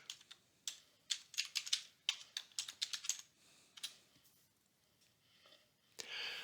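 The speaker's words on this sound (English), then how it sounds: "When I type in Johnny's name" Bursts of keystrokes on a computer keyboard as a name is typed into an online member portal, crisp and close, in quick irregular runs with short pauses, one louder clack near the end, no talking.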